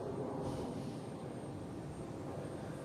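An airliner rolling along the runway at Boston Logan International Airport gives a steady, dense roar that holds at a loud level throughout, heard at some distance with no voices.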